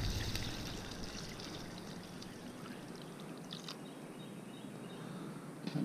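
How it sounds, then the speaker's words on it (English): Water poured into a hot pan of frying chicken during country-style steam-fried chicken cooking, a steady sizzling hiss and splashing pour that continues evenly, close and moderately loud. "And I just want to add some water to it."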